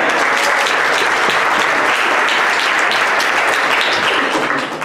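Steady, dense applause from an audience at a live event, loud, continuous clapping that holds throughout and tapers slightly at the very end.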